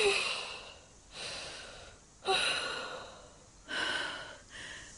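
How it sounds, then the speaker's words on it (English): A woman in labour pants in rhythmic breathy bursts, four loud heavy breaths spaced about a second apart, close and alone without talk. "Come on, keep panting"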